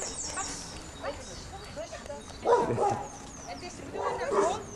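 A young puppy gives short yips and whimpering barks in a few scattered bursts, close by, while people talk nearby.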